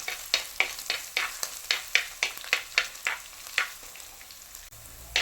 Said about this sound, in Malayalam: നല്ലപോലെ ഒന്ന് ഈ എണ്ണയിൽ കിടന്ന് ഇഞ്ചി വെളുത്തുള്ളി ഒന്ന് വാടി വരണം